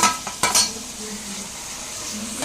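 Ginger garlic paste sizzles in hot oil for a fried rice dish, with a couple of quick metallic clinks of a spoon against the pan at the start and a steady low frying hiss after, with no talking.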